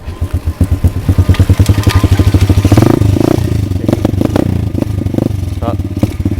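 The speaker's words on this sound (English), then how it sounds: "Still kind of faltering a little bit." Pit bike engine sputtering close and loud, with rapid uneven firing pulses that climb and then stumble and falter.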